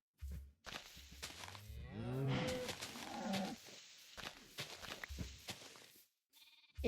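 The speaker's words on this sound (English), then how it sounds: "And now we're gonna breed 2 of these cows." Cows in Minecraft give a few drawn-out moos in a row, loud and close, separated by short pauses, with no talking.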